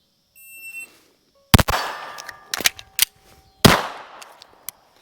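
Pistol gunshots at shooting practice comparing hammer-fired and striker-fired handguns: about four sharp, loud cracks, irregularly spaced, each with a short ringing decay, after a faint electronic beep from a shot timer.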